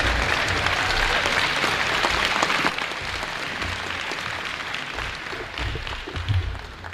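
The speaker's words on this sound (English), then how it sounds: "how about a big round of applause for all of our honorees tonight?" A banquet crowd at the Hammond Sports Hall of Fame ceremony applauds its honorees, with full, even clapping that thins slightly toward the end and a low rumble of the room beneath.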